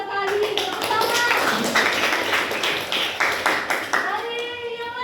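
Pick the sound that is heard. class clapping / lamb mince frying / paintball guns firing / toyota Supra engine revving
class clapping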